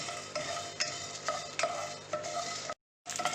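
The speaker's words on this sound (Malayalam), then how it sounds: "ഇത്രയും സാധനം ഇട്ട് നമ്മൾ ജസ്റ്റ് ഒന്ന് വറുത്തെടുക്കുക" Coriander seeds, cinnamon and cloves dry roasting in a pan, with repeated scraping strokes of a spatula and a light rattle of whole spices, quiet and close, with a brief dropout near the end.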